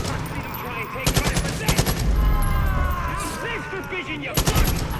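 AK rifle fire in Far Cry 5, several short bursts of sharp, loud gunshots spaced across the clip, with game sounds and voice-like chatter between them.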